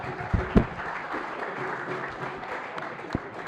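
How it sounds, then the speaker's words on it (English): Audience applause at the 2018 Basic Income Earth Network congress, a steady broadband patter of many hands with a few sharper claps standing out near the start and end. "I think there is something worrying about the clapping."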